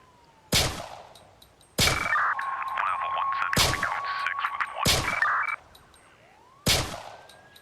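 Five sharp, loud gunshots from the Emergency 4 video game with a Montana mod, spaced irregularly about a second apart, with game alarm and siren tones sounding between shots.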